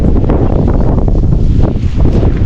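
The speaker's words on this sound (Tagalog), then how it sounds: "Umaasa akong hihina yung hangin kaso hindi humina eh." Strong wind roars and buffets the microphone at a cold mountain campsite on Mt. Olis in Atok, a loud, continuous rumbling gust with no break over a few seconds.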